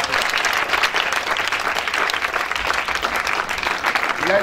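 A church congregation at a spiritual retreat bursts into loud, sustained applause, a dense wash of clapping that continues for the whole stretch with a faint voice underneath.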